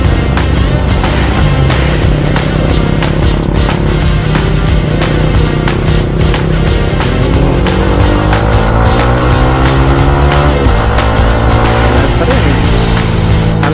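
A tuned Yamaha XSR155 motorcycle engine runs loud and close, holding a steady rough idle before revving up and down in rising and falling sweeps, with no talking.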